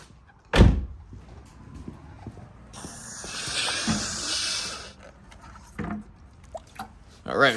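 Water pours into a bucket during cleaning of a moldy Subaru, a broad rushing fill of a couple of seconds set among sharp knocks and thumps, fairly close, with talk around it.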